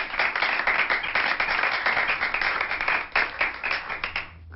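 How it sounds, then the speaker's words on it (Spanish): An audience claps steadily together for several seconds, a dense, continuous burst of applause with fast individual claps. "Pido un aplauso para Jorge."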